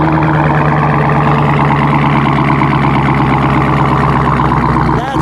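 A 2019 Dodge Challenger Redeye Hellcat with a Hurst setup idles loudly up close, a steady, dense rumbling drone with a fast throbbing pulse that holds unbroken for several seconds.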